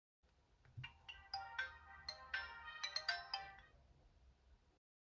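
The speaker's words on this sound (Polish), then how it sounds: "odpalmy ten telefon i zobaczmy co tam mamy" Sony Ericsson K550i mobile phone playing its startup tune, a short bright melody of chiming electronic notes lasting a few seconds and then stopping, heard clearly on its own.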